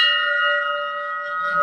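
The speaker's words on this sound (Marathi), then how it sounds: "मंदिराची घंटा वाजूया." A temple bell at the Kalanka Mata shrine in Chikhaldara rings once, close and loud, its bright metallic tone sustaining evenly with a long shimmering ring and no voices.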